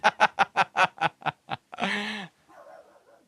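A voice imitates a dog barking, with about eight short, evenly spaced 'ruff' yelps up close, followed by a longer drawn-out vocal call and a faint murmur at the end.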